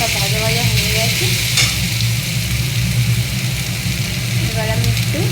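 Onions, tomato and chilli sizzle steadily in a pan, a close continuous frying hiss with occasional stirring scrapes, over a low background hum and faint voices at the start and end.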